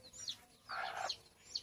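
Chickens cluck close by in short, shrill, scattered calls, with a louder squawk in the middle, over a quiet yard background and no talking.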